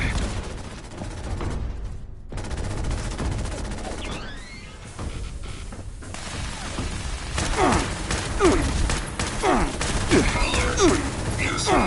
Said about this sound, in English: Time to unload big guns!